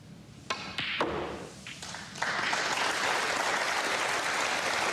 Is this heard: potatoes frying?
no